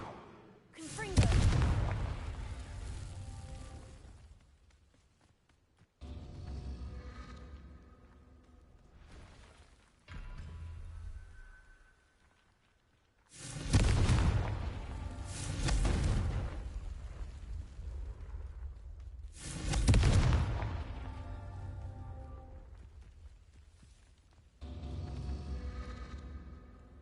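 Blasting-spell explosions from Hogwarts Legacy boom out in several heavy, rumbling bursts a few seconds apart, each decaying into a long roar.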